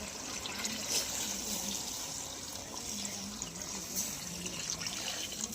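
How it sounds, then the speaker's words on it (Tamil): Water poured into a pot of country chicken curry, a faint continuous trickle and splash with soft kitchen background, steady throughout. "அப்படியே தண்ணி ஊற்றிக்கலாம்"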